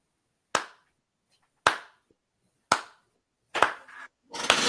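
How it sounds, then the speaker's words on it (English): Single sharp hand claps struck close to a microphone, four evenly spaced loud claps with silence between, then a quicker burst of clapping at the end. "Hope you can hear my clapping on the microphone."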